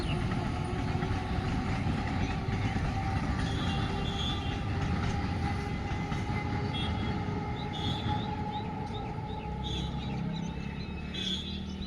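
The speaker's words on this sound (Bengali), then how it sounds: "ওদিকে আপের ট্রেনটাও ছেড়ে দিয়েছে এখন" A crowded up train pulls out and rumbles past steadily, with clattering wheels, faint metallic squeals and a low continuous roar throughout.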